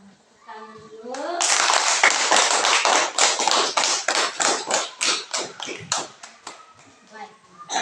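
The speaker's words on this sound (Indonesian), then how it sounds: "Mari kita sama-sama tepuk tangan dulu." A class of fourth-grade primary school children claps hands together in a loud burst of rapid, uneven claps after brief speech, the clapping gradually thinning into separate rhythmic claps toward the end.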